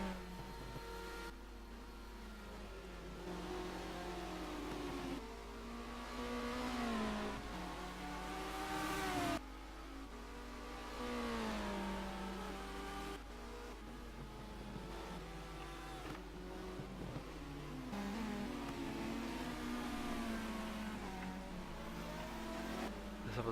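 BTCC touring cars racing at the London circuit, engines droning and rising and falling in pitch as they rev and shift, heard steadily and somewhat distant across the whole stretch.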